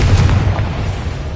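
A Confringo spell explosion in Hogwarts Legacy, a single short, loud, low boom that fades quickly.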